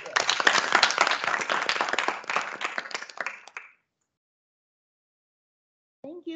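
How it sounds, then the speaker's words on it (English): Lecture audience gives a burst of steady clapping that stops abruptly, leaving silence before a voice begins speaking. "Please let's give Dr. Ojo, a round of applause"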